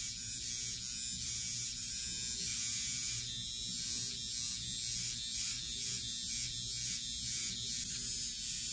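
A Flawless eyebrow trimmer buzzes steadily as it is dragged back and forth across pulled-taut skin, a close, continuous electric whine with slight rhythmic wavering and no talking.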